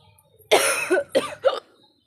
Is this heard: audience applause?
no